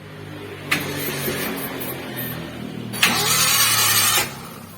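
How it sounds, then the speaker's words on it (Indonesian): A Suzuki Carry Futura with a broken timing belt cranks on the starter without compression, two bursts of fast, even whirring, the second longer and louder, close in a workshop. "bisa kita dengarkan untuk suara mesinnya."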